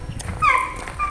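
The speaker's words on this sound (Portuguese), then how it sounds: "Esse cachorro tava causando ali, atrapalhar muito o vídeo" Dog whimpering and yipping in short, high, whining cries that rise and fall over a quiet room background, fairly close, with no talk.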